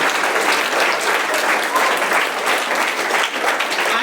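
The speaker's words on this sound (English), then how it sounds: "give a round of applause to entire Prakash Vidyaniketan team" Sustained audience applause at a school Independence Day celebration in Visakhapatnam, a dense, steady wash of many hands clapping at once that stays loud and even from start to finish.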